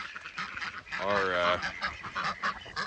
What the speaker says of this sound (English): if our ducks are gonna figure out there's a bigger pond